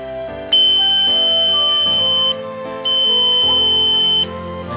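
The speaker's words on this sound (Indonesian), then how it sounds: "Maka membuat buzzernya menjadi berbunyi." A relay-switched electric buzzer sounds loud and steady in two long stretches with a short gap between them. Each burst carries a harsh sustained tone, and a lower hum shifts underneath.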